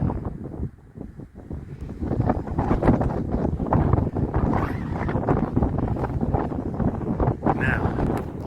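Strong wind buffets the microphone on an exposed Appalachian Trail mountain ridge above a valley, a loud, steady roar with gusting surges throughout and no talking.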